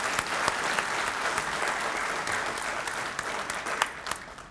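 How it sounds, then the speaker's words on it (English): A school jazz band, Waco High's, receives a steady round of applause from a morning retirement breakfast crowd, dense clapping filling the room throughout with no talk over it. "Let's give a quick round of applause for the Waco High Jazz Band"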